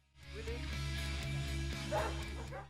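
A dog during a recall training exercise gives short yips and whimpering bow-wow sounds over a low rumbling background, close and moderately loud, with no clear talk.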